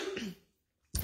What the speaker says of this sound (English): So I still have a little bit of that residual cough.